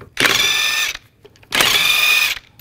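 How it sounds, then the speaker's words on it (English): Two long bursts of a power tool whirring with a 22 mm socket remove lug nuts from a 2010-2017 Chevrolet Equinox wheel, close and loud with a short gap between them. "going to remove these lug nuts. Use a 22 millimeter socket."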